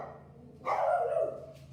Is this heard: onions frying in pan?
no